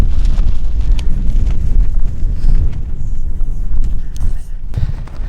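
Steady wind blowing across an open hilltop camping spot on Dartmoor tors near Sheepstor, a continuous low rumbling buffet on the microphone with brief gusts and a short lull near the end.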